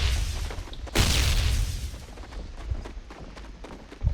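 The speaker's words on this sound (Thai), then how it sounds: "มึงคว้างระเบิดให้กูเลยเหรอ" A grenade in a video game bursts out in a sharp, loud blast and then rumbles away, with a few fainter booms and cracks following in the background.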